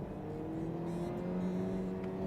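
Hyundai Kona Hybrid 1.6 engine with a six-speed gearbox revving steadily, its droning tone rising slowly from inside the cabin, loud and continuous with no talking.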